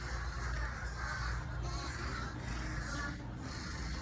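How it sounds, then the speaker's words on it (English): Several crows caw at a distance over steady outdoor background noise, their calls hoarse and irregular. "Crows, they sound sick though."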